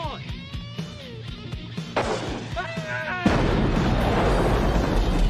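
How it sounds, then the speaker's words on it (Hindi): A house blows up after a flare gun shot in an action movie scene, a sudden heavy blast that roars into sustained rumbling, preceded by a voice and dramatic music. "दीदी ने फ्लेयर गन से पूरा घर ही उड़ा दिया"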